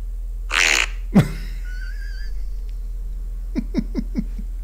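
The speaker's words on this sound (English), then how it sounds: "Now this one's called Double Quack." A comic fart sound effect named Double Quack opens with two quick buzzy blurts, followed by a faint whine and a string of short low pops near the end.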